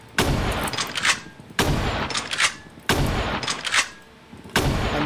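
Mosin Nagant bolt-action rifle fires in a Roblox game, four sharp, loud shots spaced roughly a second apart, each followed by a short echoing tail and mechanical clatter.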